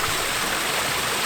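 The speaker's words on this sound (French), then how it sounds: "il y a une rivière sur des gros cailloux" A river rushing over large rocks beside an arched red wooden Japanese bridge, a steady loud broadband wash of flowing water with no pauses.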